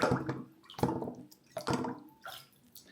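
A DJI Osmo Action 6 camera is dunked and spun in water, making a few close splashing, sloshing bursts about a second apart with dripping in between and no talk.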